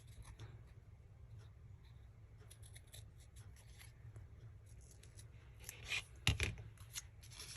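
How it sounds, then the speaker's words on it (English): Scissors cut around paper for a Paris-themed junk journal, producing quiet, steady snipping and rustling that rises into a sharper, louder burst near the end. "we'll go ahead and cut around this, just giving it a little more character"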